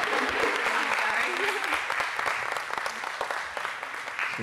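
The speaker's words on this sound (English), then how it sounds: "Keep clapping till she's ready." Steady applause from an audience at a live music show, a dense, even clatter of many hands that carries on throughout, with a voice speaking over it partway through.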